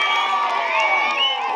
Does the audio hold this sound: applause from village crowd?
yes